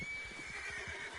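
A horse in Red Dead Redemption Online gives a short, clear neigh and whinny close by, with faint hoof clip-clop underneath.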